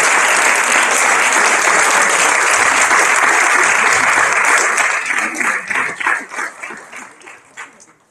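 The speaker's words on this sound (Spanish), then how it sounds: "un aplauso por favor" Loud, sustained audience applause fills a conference panel on restoration methodologies and interventions, steady for about five seconds before thinning into scattered claps that fade out.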